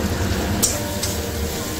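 Spices and tomato frying in a pan in a home kitchen, a steady close sizzle with a couple of brief scraping stir sounds over it.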